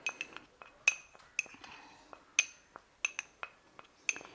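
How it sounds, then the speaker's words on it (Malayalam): A spoon clinks repeatedly against a bowl while mixing a licorice face pack, sharp bright taps at irregular intervals with soft scraping between them. "ഇതെല്ലാം കൂടി നന്നായിട്ട് അങ്ങ് മിക്സ് ചെയ്തിട്ടുണ്ട്"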